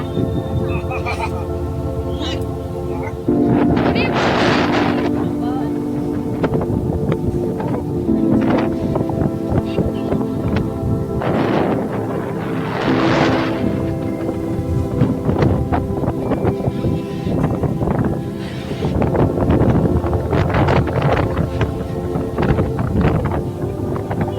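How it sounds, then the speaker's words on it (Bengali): Strong wind and breaking sea waves on the beach at Puri, a steady roar of wind buffeting the microphone with repeated wave surges swelling and crashing every few seconds, loud and close throughout. "আর ঢেউগুলো উফ, এমন হাওয়া দিচ্ছে, একটু মুশকিল"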